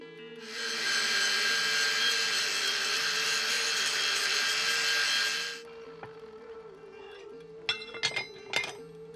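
A blacksmithing guillotine tool part has its radius roughly cut with a steady, harsh grinding or cutting whine lasting about five seconds, followed by a few sharp metallic clinks near the end.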